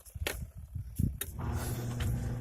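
A Giantex/Costway portable clothes washer, loaded and set to a normal or soft cycle, starts up after a few bumps and knocks, settling into a steady close motor hum with sloshing churn.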